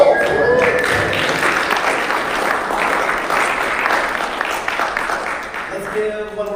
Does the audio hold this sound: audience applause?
yes